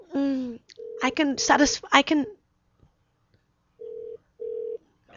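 A telephone rings out while calling a Walmart store, two short steady ring tones following a few moments of people talking, then a pause before the rings.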